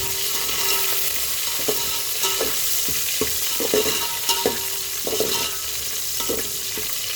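Dried red chillies fry in hot oil in a pan as a tempering for yellow cucumber dal, with a steady close sizzle broken by repeated clicks and scrapes of a stirring spoon.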